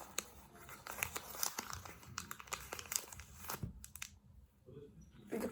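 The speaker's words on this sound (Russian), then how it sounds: "И открываем фиолетовый пакетик." A purple plastic packet being opened, giving close, continuous crinkling and rustling with sharp crackles that thin out near the end.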